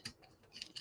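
Scissors snipping through paper pieces for a Stampin' Up! stamping craft project, a few quick close crisp cuts with short pauses between them, no talking.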